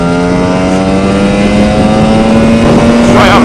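A Lambretta scooter fitted with a Simonini 260 engine revs steadily under throttle, its loud buzzing exhaust note climbing smoothly in pitch while the rider holds it in third gear, close and continuous.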